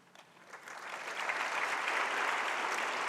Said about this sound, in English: I know you all will be clapping